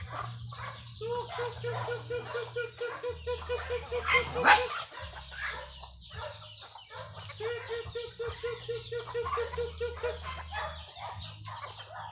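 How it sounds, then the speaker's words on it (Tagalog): Pet backyard chickens cluck and chatter close by, with repeated short calls and a rising squawk midway, over a low steady hum. "yung mga manok natin alaga"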